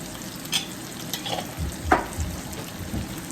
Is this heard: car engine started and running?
no